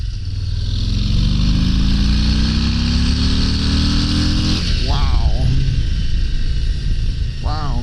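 A 2022 Harley-Davidson Low Rider S motorcycle engine pulls hard and loud up through the rev range, its rising exhaust note close and dominant, with a rider's voice briefly heard over the roar.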